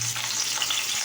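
Fish sizzling in hot oil in a pan, a steady close crackle and hiss filling the short moment with no voices.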